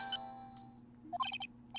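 A bright electronic phone ringtone from the Ace Attorney: Trials and Tribulations video game, a quick chiming melody of short high notes played over a faint steady hum.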